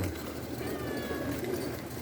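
Soft cooing of pigeons or doves, low and repeated, against a faint background hum.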